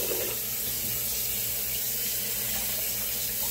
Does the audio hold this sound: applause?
no